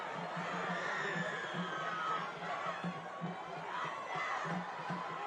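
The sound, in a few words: football crowd cheering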